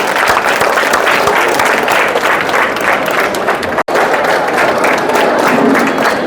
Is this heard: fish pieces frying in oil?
no